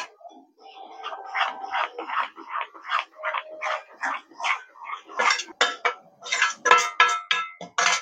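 Rice flour mixture stirred in a pot over a very low gas flame, with close, rhythmic scraping and clinking strokes that grow louder and busier toward the end.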